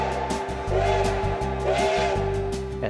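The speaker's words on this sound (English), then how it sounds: "to hear the echo of that whistle coming back" A steam locomotive whistle on the Durango and Silverton Narrow Gauge Railroad blows in long sustained tones, sounding again and again with a hissing edge, echoing back through a canyon.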